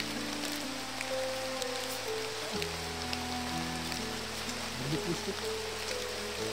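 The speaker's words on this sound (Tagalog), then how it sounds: "Sobrang lakas na. Palakas ng ulan, bay." Heavy rain pours steadily in a rural Philippine setting, a continuous broadband hiss close by, with tonal hum and steady lines running underneath throughout.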